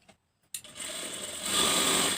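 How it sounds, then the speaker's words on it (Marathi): Sewing machine stitching blouse fabric starts after a brief near-silence, then runs as a steady close whirring hum that grows slightly louder toward the end, with no voices. "एकच शिलाई मारून घ्यायची की ही सरळला सरळ"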